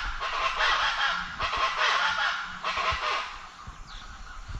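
Loud, harsh crow-like bird calls ring out in the dark before dawn, around 5 a.m., where wild capybaras are feeding; several rough, repeated cries come in bursts in an irregular rhythm, with no talking.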